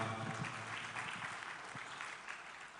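Steady, sustained applause from an audience at a congress opening ceremony in Kigali, Rwanda, a dense wash of many hands clapping at even loudness throughout.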